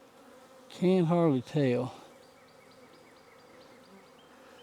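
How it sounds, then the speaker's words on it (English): Honey bees buzz around an open hive, a steady low drone that goes on throughout, with someone briefly talking close by over it. "They're buzzing pretty good there, especially around that camera."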